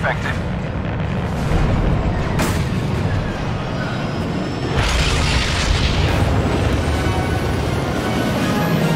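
Proton torpedoes fired at an enemy starfighter in Star Wars Battlefront II, heavy booming blasts over a constant roar of starfighter combat, with a strong burst near the middle.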